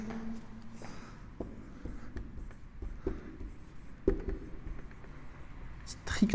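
Chalk or marker writing on a classroom board during a French-language maths lesson on function monotonicity, a steady scratching and tapping of strokes at close range with faint room noise and no talk over it.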